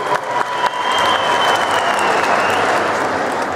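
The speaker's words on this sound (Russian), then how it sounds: "Спасибо вам за аплодисменты" Sustained applause from a large audience at a Navruz celebration in Moscow, a dense, even wash of clapping that swells after the first second and holds steady.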